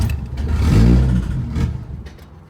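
A 1980 Fiat 124 engine, primed with starter fluid, catches and revs up loudly nearby, swelling to a peak, easing, then giving a second shorter blip before settling.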